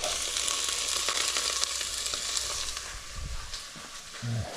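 Onions tossed into a hot pan with carrots and celery for a veal stew hiss with a loud, continuous sizzle; brief scraping stirs and a low knock of the pan come near the end.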